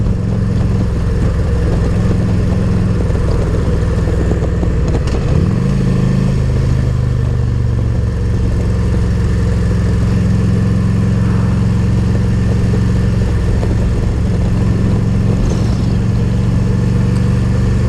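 A motorcycle engine runs steadily and loud throughout while riding, a continuous mid-low drone with wind noise, briefly shifting pitch near the middle as it changes gear or speed.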